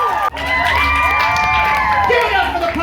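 Audience at a team poetry slam final during the Utah Arts Festival, a loud crowd cheering and whooping with rising shouts and some clapping, sustained and close throughout.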